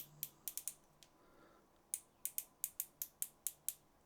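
Brake releaser mechanism on a Kastking Kestrel spinning fishing reel, a stiff unit that gives a series of sharp, close mechanical clicks and snaps in irregular clusters, loud and isolated against quiet background.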